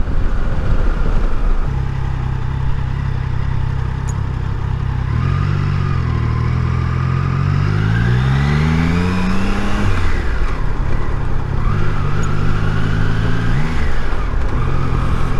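A 2024 Triumph Tiger Sport 660 motorcycle engine pulls steadily at low revs in sixth gear, a loud close drone that rises smoothly in pitch as it accelerates, drops, then climbs again under constant wind rush.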